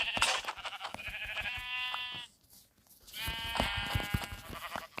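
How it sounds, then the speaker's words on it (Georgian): Two long, wavering Minecraft sheep bleats, each lasting about two seconds, separated by a brief pause; close and clear with no talking. "შავი ცხვარი და თეთრი ცხვარი"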